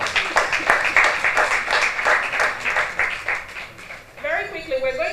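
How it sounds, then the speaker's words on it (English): An audience at a World Cancer Day commemoration event in Nigeria applauds, dense steady clapping that fades out, followed by a voice beginning to speak. "can we give him another round of applause, please?"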